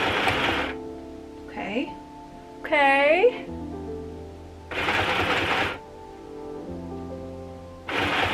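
Stitching on a home sewing machine joining pinned fabric, heard in three separate bursts of rapid whirring, each lasting about a second, close by with pauses between runs and a faint bit of talk in the gaps.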